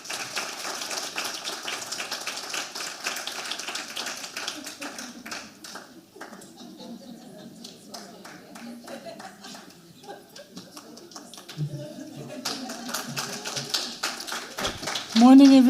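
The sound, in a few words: audience applause for a speaker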